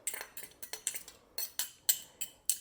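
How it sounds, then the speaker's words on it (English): A small spoon being pulled from a drawer of cutlery, a quick series of about ten light metallic clinks and rattles, close by and fairly quiet, with no talking. "Let me get a little spoon out."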